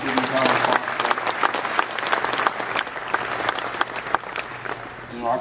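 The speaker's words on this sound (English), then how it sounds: "Please give me a round of applause for that." Applause from a hall of fame induction audience, a dense sustained clapping that fills the room for several seconds, steady and loud with a few sharper claps standing out.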